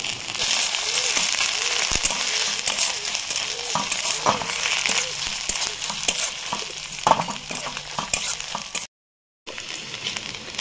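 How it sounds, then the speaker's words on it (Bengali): Ginger, garlic and onion paste frying in a pan for ghugni, a steady close sizzle with repeated scraping stirs throughout and one brief silent gap. "আদা রসুন আর পেঁয়াজ ভালো করে ভেজে নিয়েছি"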